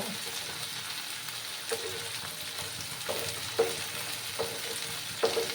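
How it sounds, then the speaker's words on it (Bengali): Jackfruit seeds and taro stolons fry in hot oil, giving a steady close sizzle with a few sharp pops and spatula scrapes spread through. "এগুলো দিয়ে দিচ্ছি এখন একসঙ্গে ভেজে নেব"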